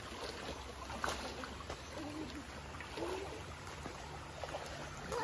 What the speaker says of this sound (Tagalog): super lamig niyan tubig na yan na dumadaloy dyan